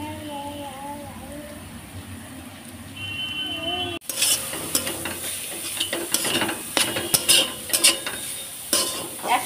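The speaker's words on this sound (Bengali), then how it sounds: "একসাথে ভালো করে নেড়ে নিচ্ছি।" Grated carrot and cauliflower are stirred together in a frying pan. After a few quiet seconds, a loud burst of sizzling starts, with irregular scraping and clattering from the utensil against the pan.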